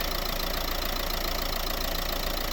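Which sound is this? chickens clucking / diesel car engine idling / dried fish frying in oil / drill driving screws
diesel car engine idling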